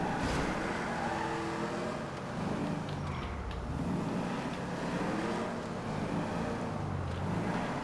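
A car in the video game GTA 5 drives steadily, its engine producing a continuous droning hum with slight pitch sweeps as speed shifts. It is fairly loud and constant throughout.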